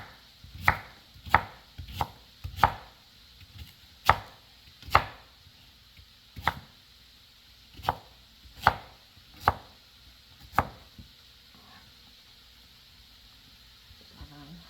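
A knife chops potatoes on a cutting board in about a dozen sharp, close knocks, irregularly spaced at first and then slowing, over a faint steady background hum.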